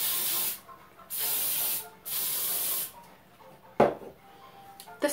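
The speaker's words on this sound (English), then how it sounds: "And now we get to spray." Hair spray hisses from a can in three sharp, loud bursts of roughly a second each, separated by brief pauses, followed by a few faint rustles and clicks.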